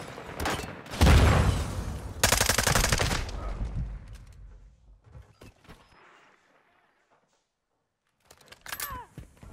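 Gunfire in Modern Warfare 2 beta multiplayer, two loud close bursts of rapid automatic shots in the first few seconds, then fading rattle and quiet, with a few sharp shots returning near the end.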